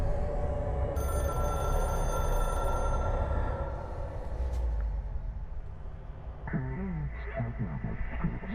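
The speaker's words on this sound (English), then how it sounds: "Let's answer the phone." In the video game Control, a telephone rings with a bright electronic trill, repeating over several seconds amid a low droning game ambience, then fading as other tones emerge.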